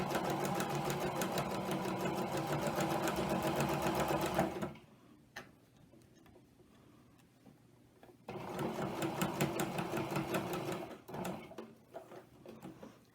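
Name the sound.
sewing machine stitching a quilted coaster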